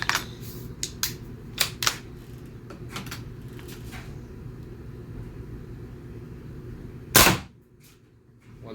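A single sharp, loud shot from a .38 caliber CO2 Nemesis BB air pistol cracks out close by near the end, preceded by scattered light mechanical clicks and handling noises over a low steady hum.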